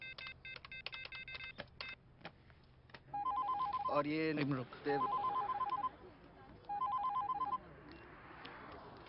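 A telephone being dialed and then ringing in the 2014 Hindi film Kaanchi: quick keypad tones tapped out, then repeated electronic ring bursts with pauses between them, and someone speaking briefly over it.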